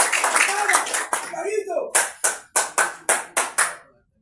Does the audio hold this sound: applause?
yes